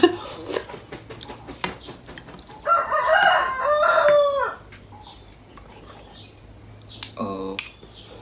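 A rooster crows once loudly at close range, the call rising and breaking off, amid clinking cutlery and dishes from a breakfast table; no speech over it.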